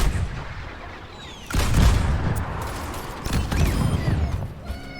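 Overwatch 2 mortar grenades burst in two heavy booms a couple of seconds apart, each followed by rumbling debris and mechanical clatter, loud and near with no talking.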